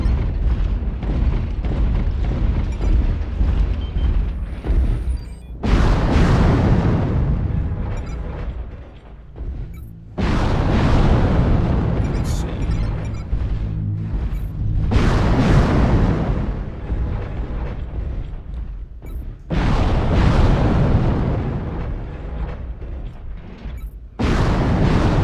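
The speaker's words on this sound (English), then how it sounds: "I can actually fire my missiles at him" Missile volleys in MechWarrior Online slam out as a series of loud, booming explosive bursts, each followed by a rumbling decay, with four or five big blasts spread across the stretch and mechanical rumble between them.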